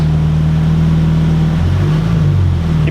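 A car's engine hums loud and close at low speed as it rolls into a new shop, a steady drone with a slight shift in pitch near the end and no talk.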